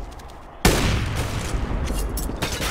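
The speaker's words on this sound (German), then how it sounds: "Da kommen einige Schüsse durch die Fliesen geflogen." Gunfire in a professional Counter-Strike match on the map Overpass, with bullets punching through tiles: a loud, sudden burst of shots kicks in and keeps crackling densely without a break, with no talk over it.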